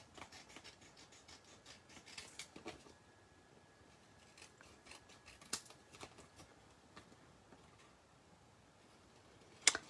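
Paper scissors trimming DSP card stock for a handmade card, a string of soft, quiet snips and rubbing scrapes close by, with a few sharper clicks and a distinct snap at the end.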